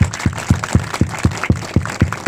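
Audience claps in unison at a training workshop with no music, about ten sharp, evenly spaced claps in a steady rhythm, loud and close, with no talking.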